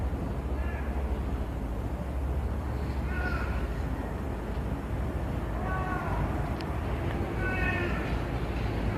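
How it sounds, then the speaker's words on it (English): Faint, strained meow-like wails repeat several times, drawn out and wavering like a distressed or dying cat, heard from a distance inside a dark, empty school over steady background hiss. "Sounds like a dying cat."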